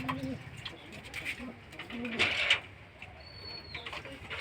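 Pigeons coo in a loft, with soft, low, repeated coos close by, a few brighter calls and rustles, and a thin rising whistle-like call near the end, fairly quiet overall.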